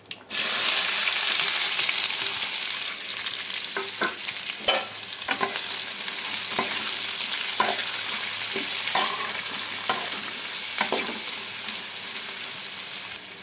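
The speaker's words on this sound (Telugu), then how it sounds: "కరివేపాకు, ఇందులో కట్ చేసుకున్న క్యాప్సికమ్ వేయాలి." Cut capsicum and curry leaves fry in a pan, a loud sizzle that starts abruptly and holds steady, with repeated scraping stirs of a spoon throughout.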